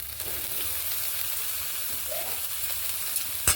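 Spice paste with coriander leaves stir-fried in a pan while pumpkin is cooked, a steady close sizzle throughout with faint scraping from stirring and a brief clack near the end.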